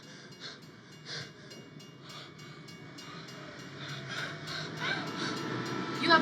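A train draws nearer with a rising rumble and rattling wagons, growing louder toward the end, while faint voices speak over it at a distance.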